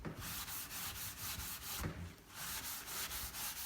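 Steel stripping wool scrubs a wet shiplap wood surface that is being stripped of polyurethane, a soft, rhythmic rasping back and forth in quick strokes, close and fairly quiet.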